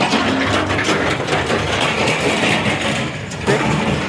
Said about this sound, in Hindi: गाड़ियाँ वगैरह ट्रैक्टर वगैरह एकदम पास से जा रहे हैं